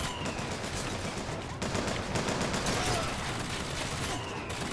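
Enemy gunfire in BioShock Infinite: dense, continuous rattling bursts of shots under a steady roar of game noise, fairly faint and sustained throughout.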